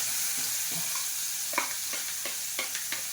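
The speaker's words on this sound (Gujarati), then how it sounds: "તેલ થઈ ગયું છે પહેલાં આપણે એમાં ડુંગળી નાખશું" Onion fries in hot oil for an olo dish, a low steady sizzle with light scraping and stirring taps that grow more frequent toward the end.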